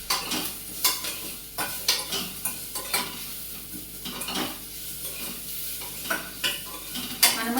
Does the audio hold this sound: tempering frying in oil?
yes